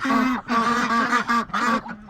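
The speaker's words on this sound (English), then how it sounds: "This is roughly 20 ducks." About twenty ducks in a pen quack loudly in overlapping, repeated bursts close by, with brief pauses between the runs of calls.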